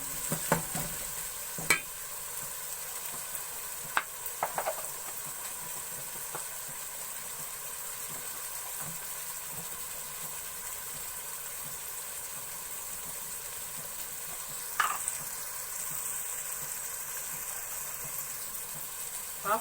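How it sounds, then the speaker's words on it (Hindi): Tomatoes frying and being stirred with meat for a turnip and meat curry (shaljam gosht), a steady low sizzle running throughout with a few sharp spoon scrapes and clinks against the pot. "अब थोड़ी देर टमाटरों को भी भून लेंगे।"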